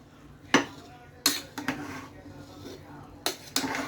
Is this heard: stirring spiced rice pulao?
yes